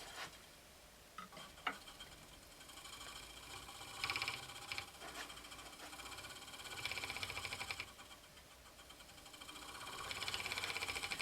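A great wheel turns steadily during direct-drive fiber spinning, producing a soft repetitive ticking and whirring that rises and falls in faint rhythmic surges, quiet and close.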